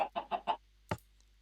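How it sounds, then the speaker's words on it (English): A Minecraft chicken clucks four quick times close up, then gives one short lower sound after a pause, against near silence. "and place a chicken down"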